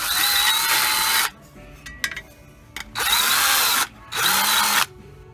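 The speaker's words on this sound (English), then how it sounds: "It's very important that when you drill your holes, you kind of want to put a bevel on them" A power drill bevels drilled holes in a car body patch panel, giving three loud sustained whirring bursts separated by short pauses with quieter handling noises.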